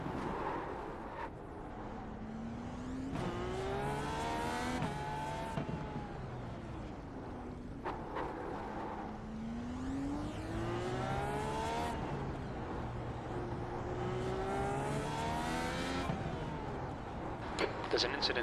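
An IndyCar race car in the video game TORQ leaves pit lane at Long Beach on cold tyres, its engine whining and rising through repeated upshifts, each gear sweeping upward before dropping back, loud and continuous under radio chatter from a voice.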